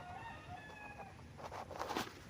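Chickens and a rooster on a farm call faintly in the distance, with a few short clucks and crowing notes over quiet outdoor background.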